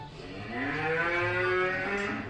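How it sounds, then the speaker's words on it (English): A cow moos in a long, drawn-out call played as a sound in a guessing game, loud and close with a rising then steady harmonic tone, heard alone without talk. "No, that's a cow."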